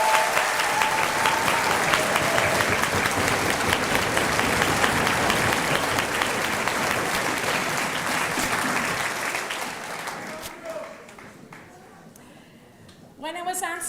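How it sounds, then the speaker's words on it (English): A large audience at a May 2017 undergraduate graduation ceremony applauds the graduating class with sustained, dense clapping that fades around ten seconds in, leaving quieter room sound and a few scattered claps. "let's give our graduate class of May 2017 a round of applause"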